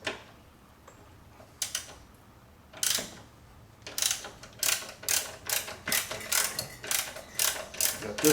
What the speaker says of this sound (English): So I'm using a 1/2 inch socket on that.